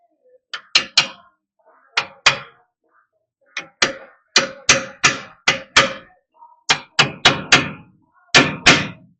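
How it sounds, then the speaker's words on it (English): A brass hammer strikes the leaf spring U-bolts on a Ford F250 in quick, sharp metallic blows, delivered in clusters of two to four with brief pauses between them, close and loud with no talking. "I'm gonna use this terrific brass hammer."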